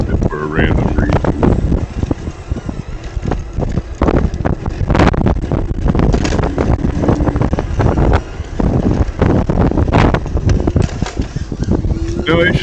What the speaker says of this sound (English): we have a steady wind of about 7 miles per hour